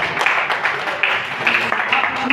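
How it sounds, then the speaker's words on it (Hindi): An audience claps at a Hindi poetry gathering held for a book launch, a steady crackle of many hands under a murmur of voices, sustained and fairly loud across the short stretch. "तालियां बजाते रहिए थोड़ा।"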